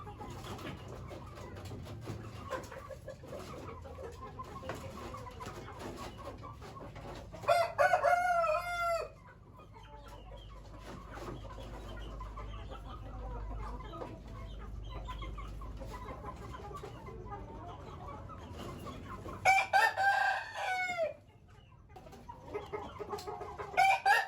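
Chickens and roosters in a coop at Aditya Farm 99, set out to dry in the sunshine after rain, cluck steadily with a few loud close crows rising over the constant background of flock noise.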